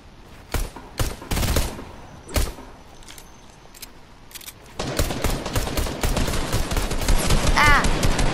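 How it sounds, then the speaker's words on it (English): Gunfire in the video game Fortnite during a concert event: scattered loud single shots early, then dense continuous rapid-fire bursts with ringing tones, close and busy throughout. "I'm getting shot at."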